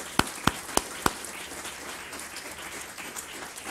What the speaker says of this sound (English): all of that deserves another big round of applause